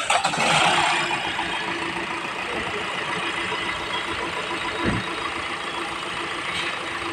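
A car engine runs steadily at a garage engine carbon cleaning centre in Ananthapur, a close, even mechanical drone with broadband hiss and a brief knock near the end.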